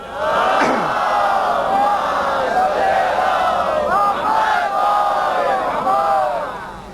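A large crowd at a Jashn-e-Ghadir religious gathering shouts slogans in unison, a loud, sustained chorus of voices rising and falling in waves for several seconds.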